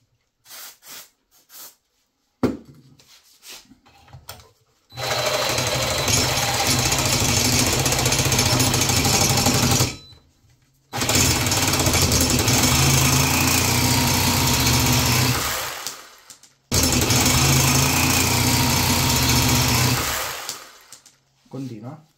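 HYCHIKA 18V cordless reciprocating saw cutting, three long loud bursts of rapid buzzing, rattling blade strokes, each lasting several seconds and separated by short pauses, close to the listener.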